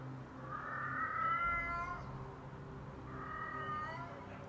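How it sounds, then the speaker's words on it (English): A cat meows twice, each call long and drawn out, with a short pause between them. The sound is moderately faint, as if from another room. "You hear a cat meowing."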